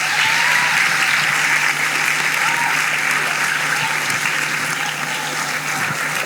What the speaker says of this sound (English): Can we all give them a round of applause for their service?